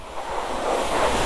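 Water sprays onto a Kawasaki Z900 motorcycle during a wash, making a steady, close, broadband hiss that builds slightly and rushes without a break.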